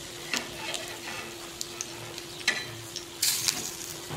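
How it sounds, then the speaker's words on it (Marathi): Colocasia leaf vadis, the crisp patra rolls, fry on a hot iron griddle over a low gas flame, giving a steady close sizzle with scattered scrapes and clicks as the pieces are turned. "दोन तीन वेळा अशी उलट पालट करून तळून घ्यायच्या."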